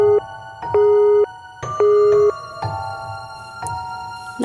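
After a phone call cuts off, a busy signal beeps in repeated on-off tones, loud and evenly spaced, with sharp clicks between the beeps.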